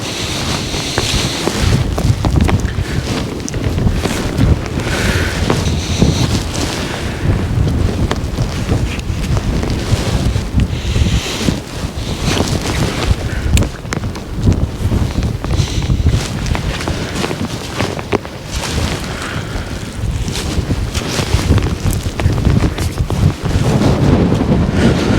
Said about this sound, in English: So that's it, the wind and rain starting now.